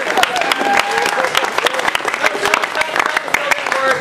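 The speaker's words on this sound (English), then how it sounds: "Clap your hands if you believe in balls." An audience at a close-up magic show claps hands in scattered, uneven bursts, with a voice talking over and between the claps.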